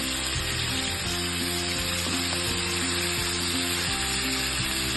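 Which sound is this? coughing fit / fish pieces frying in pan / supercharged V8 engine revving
fish pieces frying in pan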